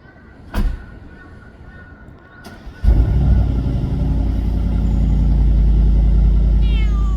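A single short cat meow near the start, then a second faint one, followed by a steady low rumble like a vehicle engine idling close by.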